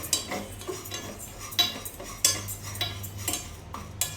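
Moong dal being stirred and fried in a pan, heard as repeated sharp metal spoon scrapes and clinks against the pan in an uneven rhythm, with only a faint sizzle beneath.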